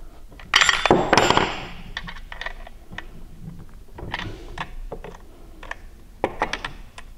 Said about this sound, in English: At that point, then I tighten the bar nuts.